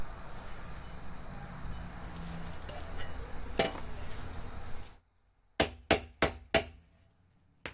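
A hand hammer strikes a B8 bronze cymbal four times in quick, ringing metallic hits that decay briefly. The strikes are close and loud and follow several seconds of broad, steady workshop noise.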